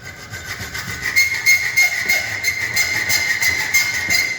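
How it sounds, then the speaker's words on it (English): A hacksaw rasps back and forth through a hot steel trowel tang, with a quick, even rhythm of about two strokes per second, close and fairly loud, a metallic squeal ringing over each pass. "Hacksaw again."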